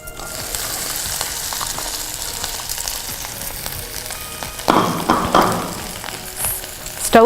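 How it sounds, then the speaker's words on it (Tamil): Paneer frying in hot ghee in a pan for milk payasam, a steady close sizzle throughout that swells louder and crackles sharply near the end as pieces hit or are turned in the fat; no talking. "இப்போ நெய் சூடாயிடுச்சு. நம்ம அதில் பன்னீர் போடுறோம்."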